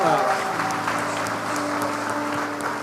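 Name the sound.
applause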